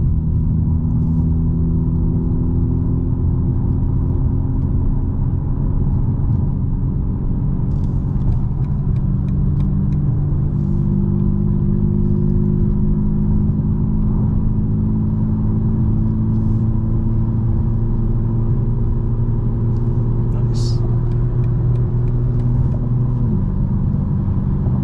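Engine and exhaust of a 2024 BMW M4 Competition xDrive (G82) driving with exhaust valves open and burbles off, a deep, sustained drone with gradual pitch shifts as revs change, steady and close throughout.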